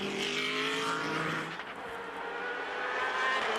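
Ferrari race car screaming away at high revs during the 2013 ALMS Oak Tree Grand Prix race, a loud sustained engine wail with rising harmonic pitch that fades slightly as it pulls into the distance.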